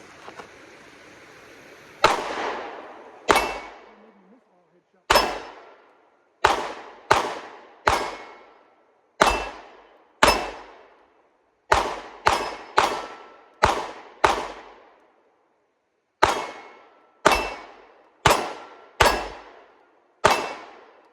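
A Canik MC9 pistol fires about fifteen sharp, loud shots at targets in uneven bursts, each crack followed by a brief decay and silent gaps between groups.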